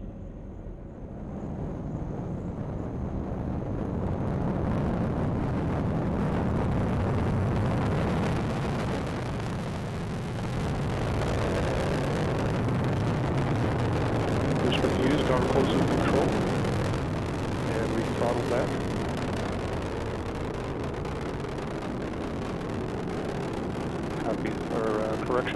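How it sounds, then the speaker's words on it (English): A rocket booster engine roars steadily during the RBSP launch, a sustained broadband rumble heard from a distance for the whole stretch with no pauses. "Booster engine continues to perform well."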